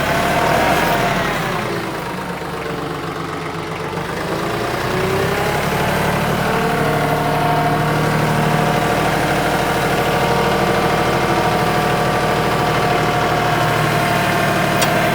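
A tractor with a backhoe runs in four-wheel drive, its engine holding a steady, loud, close rumble with a slight dip early on and then an even drone throughout.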